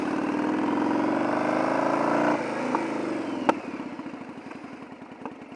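Motorcycle in first gear braking hard: a steady, loud engine drone runs for about two seconds, then drops abruptly to a slower idling putter with a sharp clunk midway, heard close with no talk.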